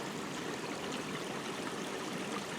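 Creek water flows in a steady, even rush, a faint continuous wash with no breaks or distinct splashes.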